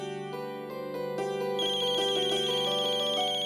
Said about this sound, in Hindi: जी, अक्षरा का फोन है।